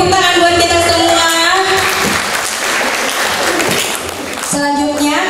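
An audience at a children's health seminar claps in a dense, loud burst of applause that fades out partway through, with amplified voices or tones at the start and end.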